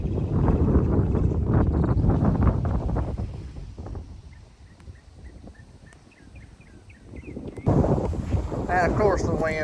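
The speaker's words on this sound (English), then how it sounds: "the wind would start blowing like ridiculously hard as soon as I started to talk for a second" Strong wind buffeting the microphone outdoors while clearing an old fence row, loud low roaring gusts that ease midway and then surge again.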